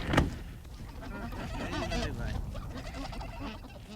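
Geese waiting to be ringed honk and cackle in a rural Frisian setting. Several nasal calls overlap at moderate distance over a noisy background, with low murmuring around them.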